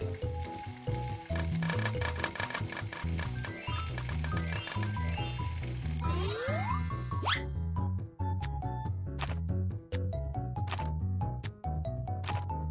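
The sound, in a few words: dough sticks frying in a pan, from a cooking video game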